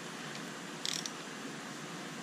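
A ratchet turning 10 millimeter bolts on a 2001 Porsche Boxster S engine gives a quick, faint burst of clicks near the middle over a steady background hiss, close but quiet.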